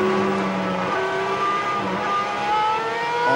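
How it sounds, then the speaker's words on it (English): On-board Superleague Formula race car engine screaming loud and close, its pitch climbing and dropping as paddle-shift gear changes come in quick succession, no talking. "On board, changing gear with the paddle shift behind the high-tech steering wheel."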